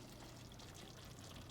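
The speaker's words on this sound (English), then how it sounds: "You can hear it bubbling." Stuffing simmering with chicken broth in a pot gives a steady low bubbling and sizzling wash, close and even throughout, with no voices.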